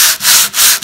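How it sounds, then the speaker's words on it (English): Sandpaper rubs steadily back and forth by hand on wood with the grain up close, three rhythmic strokes with brief pauses between, loud and raspy. "I'm going to be sanding by hand"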